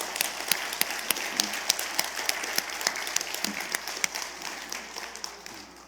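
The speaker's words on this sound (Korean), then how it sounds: "우리 하나님께 우리 감사의 박수 올려드립니다." A Korean church congregation in Orange County gives a full round of applause, a dense, steady patter of many hands that slowly fades toward the end, while someone speaks over it.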